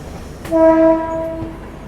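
A train horn sounds one sustained, loud tonal blast over a low rail rumble near Mumbai CSMT, with local trains running alongside, then fades as the rolling noise continues.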